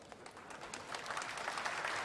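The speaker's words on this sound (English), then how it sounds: "they're clapping something" Scattered clapping from a group of people in a control room during a space mission broadcast, quiet and somewhat distant, starting sparse and building slightly into steady applause.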